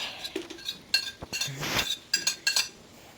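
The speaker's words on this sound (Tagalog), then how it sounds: "siya na ang hugas ng mga pinagkainan natin" Dishes being washed: cutlery and plates clink and clatter in scattered, close taps and rattles with brief running-water hiss between them, moderately loud and irregular.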